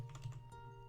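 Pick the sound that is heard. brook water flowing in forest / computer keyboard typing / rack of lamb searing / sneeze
computer keyboard typing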